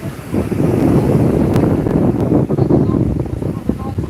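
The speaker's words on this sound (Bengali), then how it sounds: "প্রবল গতিতে চলছে বাতাস প্লাস হচ্ছে বৃষ্টি দীঘার সৈকতে" Strong wind roars steadily across the microphone at Digha beach during rain, a dense continuous rush with surf noise underneath and no pauses.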